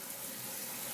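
Cold tap water runs over hot pasta in a colander, a steady close hiss and splash of flowing water, alone and without pause.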